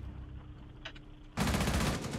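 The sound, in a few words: gunfire in video game Rainbow Six Siege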